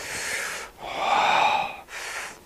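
Close, loud breaths drawn in and pushed out in three long hissing strokes with brief pauses between, steady breathing during the karate kata sanshin, with no talking.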